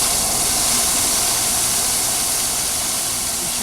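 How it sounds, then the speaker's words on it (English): A small electric motor drives a front-mounted pump that blasts river water under pressure on rough, off-grid rural land in Northern California. It makes a loud, steady, broad hiss of spray with no pauses. "this little electric motor kicks in with the pump on the front, and this is the kind of pressure we get"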